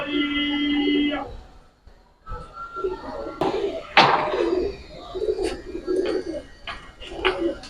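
Giribaz pigeons coo in repeated soft, throaty phrases, close by, with a sharp knock partway through and a voice talking among them.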